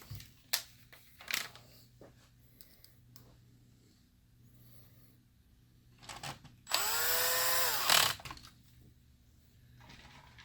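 Close up, a power screwdriver whirs for about a second as it drives a long silver screw into the back of a Hitachi CP-X3021WN LCD projector. Light clicks and handling noises from the repair come before and after it.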